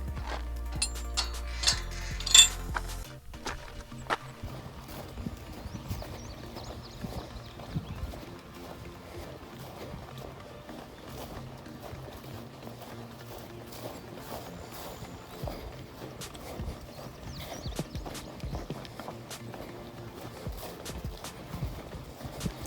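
Cattle move about near an Appalachian Trail hiking path, their hooves clopping and thudding in irregular steps at close to middling distance, with a sharper knock or two early on and otherwise no clear talking.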